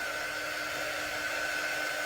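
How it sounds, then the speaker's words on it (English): A hair dryer blows steadily on ink artwork, a constant close whirring hiss with a faint high whine and no talk. "Now, this dryer is not going to dry this entirely, okay?"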